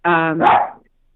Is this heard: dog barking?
yes